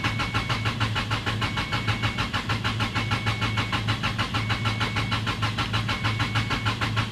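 A Subaru engine that sat unused for four years being cranked by the starter, a loud steady rhythmic churning with a constant whirring drone, close and without talk.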